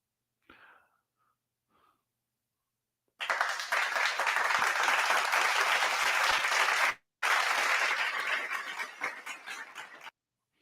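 A crowd breaks into loud, dense clapping and cheering after a short quiet pause, sustained for several seconds, briefly cutting out, then resuming before stopping abruptly.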